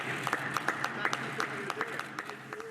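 People outside Number 10 clap for carers during the pandemic, scattered hand claps in an irregular rhythm heard faintly at a distance, with talk over them.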